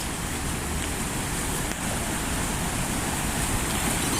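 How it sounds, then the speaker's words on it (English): Flooded Porter Brook river pouring over a waterfall, a dense, loud, continuous roar of rushing water that fills the whole stretch without pause or voices. "Let's get a closer look at this waterfall down here."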